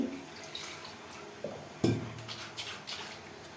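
Someone washes a mixer grinder jar nearby: water splashes and drips, with a few hollow clanks of the jar against a sink.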